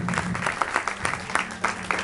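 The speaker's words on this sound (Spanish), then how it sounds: "Dale un fuerte aplauso a Dios" A church congregation at a neighborhood revival campaign claps with distinct, loosely rhythmic hand strikes. A low hum runs underneath, with faint voices mixed in.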